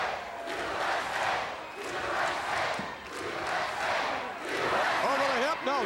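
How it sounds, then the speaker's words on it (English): A capacity crowd at a wrestling show cheers and roars in rising and falling waves, with a commentator talking over the noise. "There's capacity crowd right behind Corporal Kirshner"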